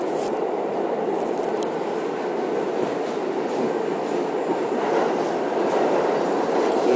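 A New York City subway train rides along with a steady, close rumble and rattle of the car, with faint clacking of wheels, and no talk.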